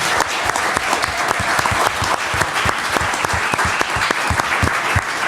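A panel discussion audience claps for the panelists, steady dense applause with sharp individual claps standing out, loud and continuous throughout with no talking.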